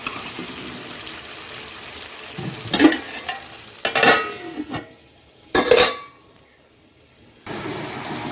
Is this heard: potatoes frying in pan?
yes